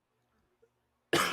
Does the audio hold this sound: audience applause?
no